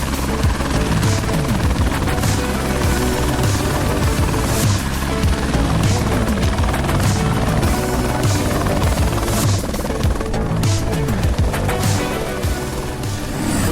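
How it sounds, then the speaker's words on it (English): Helicopter carrying riders and mountain bikes strapped on in New Zealand, a loud close continuous rotor and engine drone with rapid chopping pulses throughout, no voices over it. "Just jumped off the chopper."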